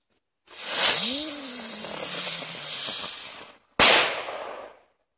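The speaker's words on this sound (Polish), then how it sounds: "Bardzo ładny efekt z wybuchem. Dość głośnym." A Triplex ground spinner firework whistles and hisses with crackling for a few seconds, then a sharp, loud bang bursts and fades.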